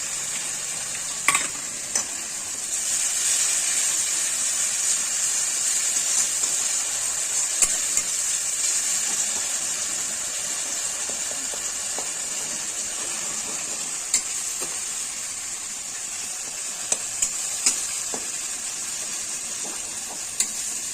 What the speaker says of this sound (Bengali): মশলাটা সুন্দরভাবে কষানো হয়ে গেছে